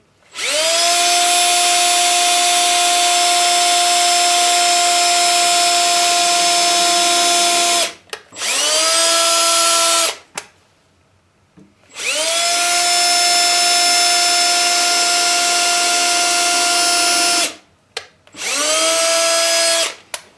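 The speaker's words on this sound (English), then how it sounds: "couple pilot holes started for these screws, otherwise they won't exactly go in very good" A power drill boring pilot holes into wood, run in four bursts: a long steady whine of about eight seconds, a shorter one, another long run, then a brief final burst, each spinning down with short pauses between.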